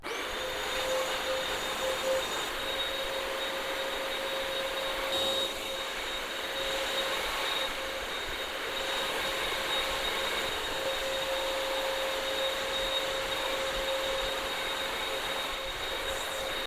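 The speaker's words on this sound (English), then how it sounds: "So let's go ahead now and clean the other side." A BISSELL CrossWave floor and rug cleaner runs steadily on an area rug, giving a continuous loud motor whine with a steady high-pitched tone, unbroken and alone for the whole stretch.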